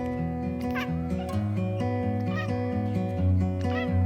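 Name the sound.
cat meowing in reply to its owner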